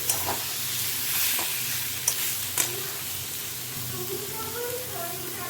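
Chhana (cottage cheese) fries with spices in a pan, giving a steady, close hiss of sizzling. A few sharp clinks of stirring break through, and a faint voice shows briefly near the end.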